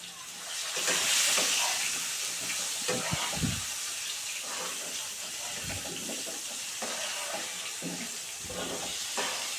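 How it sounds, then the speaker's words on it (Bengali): Potatoes with turmeric fry in a pan, giving a hissing sizzle with a few low thumps and stirring knocks, fairly close and continuous throughout. "এবার এটাকে ভালো করে আলুগুলোকে লাল করে ভেজে নিচ্ছি"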